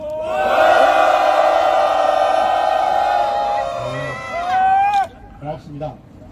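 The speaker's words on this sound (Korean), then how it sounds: "기자회견 전 함성 소리 함께 시작하도록 하겠습니다." A crowd at an anti-war peace declaration rally and press conference in Korea lets out a loud, sustained collective shout for several seconds, then it breaks off into a few scattered fading cries.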